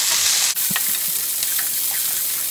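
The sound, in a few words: onion and green chilli frying in a pan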